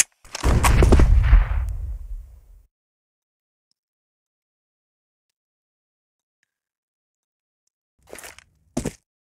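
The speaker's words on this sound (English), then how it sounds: "Throw in the flashbang." A flashbang grenade goes off in CS:GO with a loud, close burst that trails off over about two seconds, followed by silence and two brief sharp clicks near the end.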